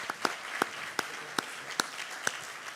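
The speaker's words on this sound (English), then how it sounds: "let's give them a round of applause for a great conversation" Scattered, distinct hand claps from an audience at a history symposium, spaced irregularly as applause thins out, over a soft room murmur.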